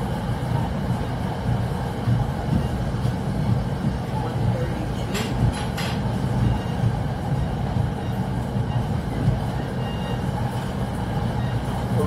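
A commuter train on the Port Jervis Line rolls steadily along the rails nearby, a continuous loud rumble with rattling, and a brief squeal partway through.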